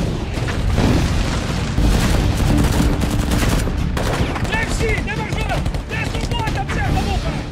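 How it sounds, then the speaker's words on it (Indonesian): Gunfire crackles through an airport siege as heavy bursts and booms overlap and bullets fly past. The din is loud and dense throughout, with a sharp crack partway in and whistling and chirping tones near the end. "Peluru lalu lalang di atas kepala militer Ukraina."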